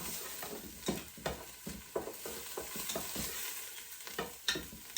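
Garlic cloves and vegetables frying in a pan, with a steady sizzle broken by repeated scraping stirs at close range.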